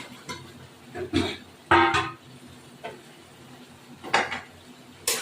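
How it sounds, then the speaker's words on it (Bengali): Potatoes dropped into a cooking pan in a home kitchen, giving several scattered clattering knocks of metal and utensils at moderate loudness, with no talking. "এবার আমি এই আলুগুলো এর মধ্যে দিয়ে দেবো"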